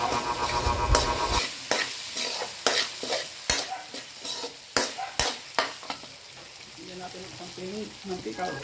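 Sautéed potatoes are stirred in a pan for tortang talong, with a steady sizzle under a run of sharp spatula knocks and scrapes that thin out toward the end.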